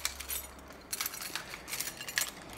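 A keyring with a small flashlight attached jangles and clinks in quick bright bursts close by, in an abandoned fire-damaged store with a steady background hiss.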